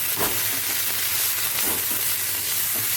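Ginger garlic paste sizzles and fries with onions in a pan, a steady close hiss with soft stirring scrapes breaking through now and then.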